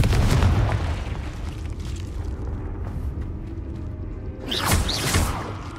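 A Confringo fire spell bursts in Hogwarts Legacy, a loud boom opening the moment, followed by a rumbling tail and a second whooshing blast near the end.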